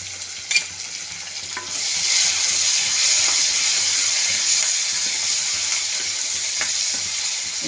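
Curry leaves dropped into hot oil with browned onions in a frying pan for chicken curry, bursting into a loud, steady sizzle after a brief clatter, with stirring scrapes throughout and no talking.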